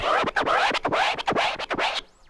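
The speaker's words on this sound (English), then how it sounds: "So the baby steps is a release mode playing style." Baby steps scratches on a turntable, played release-style with the platter running between cuts, sound rapid back-and-forth record scrubs in a tight rhythm, loud and close, ending in a short sweeping tail.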